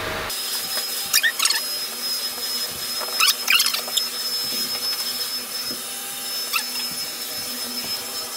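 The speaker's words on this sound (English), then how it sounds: "I'm gonna try it on the sofa now." A vacuum cleaner hums loudly and steadily at close range, with brief scraping and rustling as it moves across sofa upholstery.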